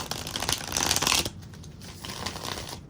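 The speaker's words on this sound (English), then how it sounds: "Oh, this is shuffling." Tarot cards being shuffled by hand, a brisk papery riffle that builds for about a second, then drops to a quieter rustle of cards being handled, close up and without voices.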